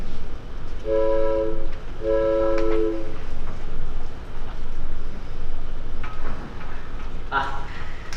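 A stage sound effect of a train bound for Boston passing, with two long, steady horn blasts near the start over a continuous rumbling rail background, followed by fainter clatter later.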